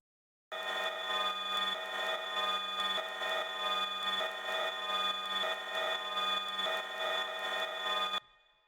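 Original unprocessed retro sound effect sample, a steady buzzing electronic tone with a faintly pulsing, phone-ring-like texture, quiet and alone, starting abruptly and stopping after about eight seconds.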